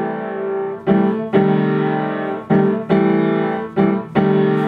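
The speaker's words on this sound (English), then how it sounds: "Like I'd write down a chord that sounds like this one, like a major six." Sustained major sixth chords ring out several times in a row, each struck cleanly and held with rich harmonics, close and loud with brief gaps between them.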